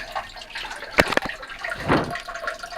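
Water splashes and trickles into a bucket being repaired for a leak, with a couple of sharp splashy bursts and a low running fill, close by and moderately loud.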